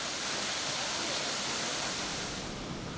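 Waterfall in West Virginia roaring as a dense, steady broadband rush, loud and close with no breaks and no voices over it.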